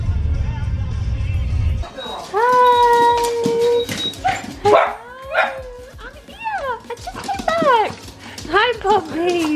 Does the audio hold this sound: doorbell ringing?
no